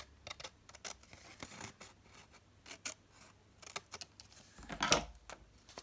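Scissors snip along the top edge of a small paper pocket for a handmade journal embellishment, giving quiet, close, irregular crisp cuts and rustles with a brighter snap near the end.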